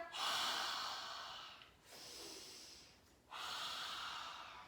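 Forceful breaths of fire-breathing dragon breath during a family yoga session, three long hissing exhalations, each followed by a quieter inhale, close and with no talk.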